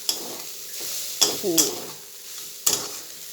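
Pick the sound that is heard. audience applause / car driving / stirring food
stirring food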